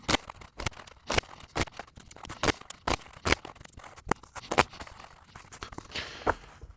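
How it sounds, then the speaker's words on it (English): Crisp, repeated riffling snaps of playing cards being shuffled, about a dozen sharp bursts in an uneven rhythm, close up with no talking. "I'm going to get these cards shuffled up"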